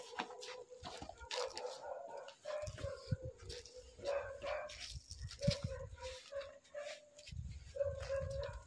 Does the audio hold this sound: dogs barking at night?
yes